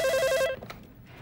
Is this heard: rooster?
no